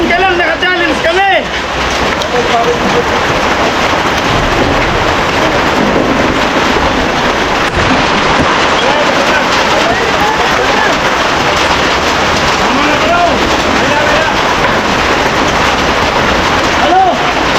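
A hard downpour keeps drumming on a house's corrugated galvanized iron roof in a continuous, loud wash of noise, with voices talking through it for most of the stretch.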